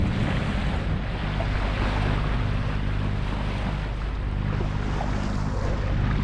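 Ocean waves and rushing water heard from a catamaran sailing off the east Australian coast, a loud continuous wash with heavy wind rumble on the microphone throughout.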